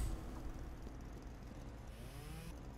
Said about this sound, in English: And so we'll just take the chainsaw, start cutting it down.